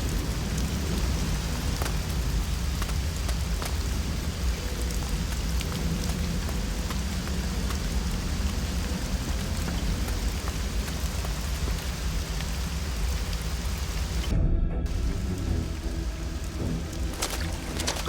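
Heavy rain pours in a storm in the video game Risen 2: Dark Waters, a dense, loud, continuous hiss of rainfall with low rumbling underneath and no voices.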